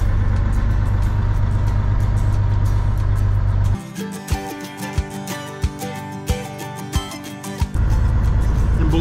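A cold truck engine runs steadily while driving, a loud low drone that gives way midway to a quieter stretch of rhythmic clicking and thumps before the engine roar returns.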